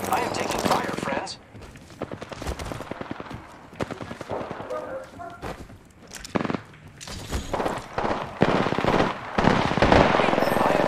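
Rapid bursts of automatic gunfire from an Apex Legends match crackle in clusters throughout, loud and close, with players talking over the shooting.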